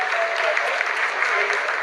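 Dense, steady applause fills the Chandrayaan-3 mission control room during the lunar soft landing, a continuous crowd of hands clapping at full volume with faint voices mixed underneath.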